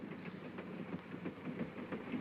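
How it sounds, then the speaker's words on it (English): Rumble of a moving train in a 1937 film, a steady low rattle with faint rhythmic clacking of wheels on track, continuous and moderately quiet with no talk over it. "I can't stop the train."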